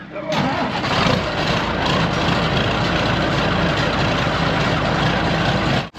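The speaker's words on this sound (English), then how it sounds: "let's fire this thing up, let it warm up" A heavy diesel engine on a ditching machine with a plow cranks and fires up, then runs in a loud, steady rumble close by for several seconds before cutting off abruptly, with voices under the noise.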